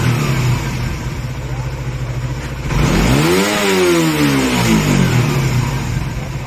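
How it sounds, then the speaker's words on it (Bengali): Suzuki GSXR motorcycle engine with a high-RPM problem, idling steadily, then revved once hard into a rising roar that falls back to idle, loud and close. "এখন বাইকে যদি আমরা একটু রেপ করি দেখবেন"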